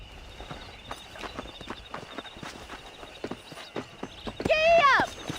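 Horse hooves clip-clop in a steady gallop-like rhythm while riding in the Red Dead Redemption video game, with a horse whinny rising loud near the end over a constant background tone.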